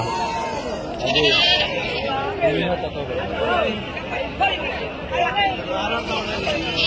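Goats bleat repeatedly amid a crowded, noisy outdoor sheep and goat market, with people chattering over the animal calls.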